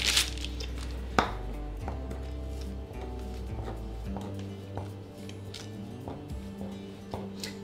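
A knife scores decorative lines across the top of a homemade four-person galette des rois pastry, giving light scraping strokes and soft taps close by, with steady kitchen background and no talk.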